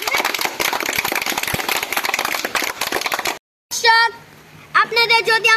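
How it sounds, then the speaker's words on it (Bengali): Loud, dense clapping from a group celebrating a game winner fills the first few seconds, then breaks off as children's voices take over. "হাততালি, জোরে হাততালি।"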